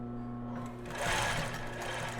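A sewing machine backstitches a finishing seam on lace panties, one steady close run that swells briefly louder midway, with no talking.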